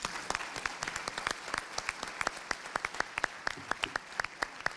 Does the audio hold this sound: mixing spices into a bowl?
no